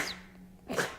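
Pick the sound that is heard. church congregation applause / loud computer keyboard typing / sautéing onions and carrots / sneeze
sneeze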